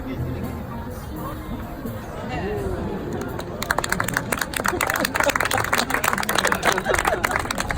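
An audience at a magic show bursts into clapping after a trick, a crowd murmur giving way to dense, close applause that keeps going to the end.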